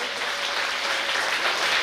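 Children at a village ceremony clap together in a dense, continuous burst of applause, loud and even throughout, with no talk over it.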